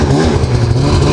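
A snowmobile engine starting up and revving on a mountain trail ride, its loud, steady mid-pitched drone running close and continuous with a rattling edge and no talk.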